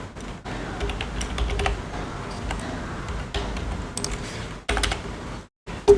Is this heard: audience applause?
no